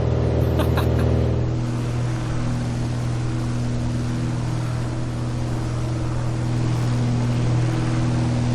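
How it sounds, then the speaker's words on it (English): The steady, droning engine of the Just Flight Arrow light aircraft in Microsoft Flight Simulator hums evenly and close throughout, with a brief higher whine near the start. "Just listen to the sounds of the aircraft as you pan around"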